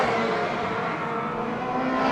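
Street stock race cars roar around an oval track in a steady, loud wash of engine noise, several cars blending together close by with no pause.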